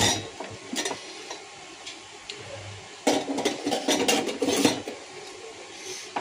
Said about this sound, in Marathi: आता मी काढते कुकर.